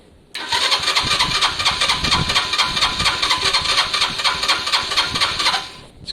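A Lexmoto Valiant motorcycle, started with no choke, cranks and catches almost at once, then runs at a loud, fast, uneven close idle for about five seconds before cutting out.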